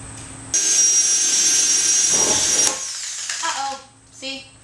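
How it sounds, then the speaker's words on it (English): A power drill whines loudly and steadily while drilling out rivets on a roof fan installation in hot weather, then stops with some clattering and handling noises afterward. "Alright, we got all of our rivets drilled out, or so we think."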